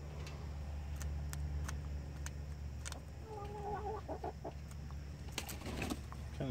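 Chicks clucking and peeping while being fed, faint and close, with scattered short calls and a few rising chirps over a steady low background hum.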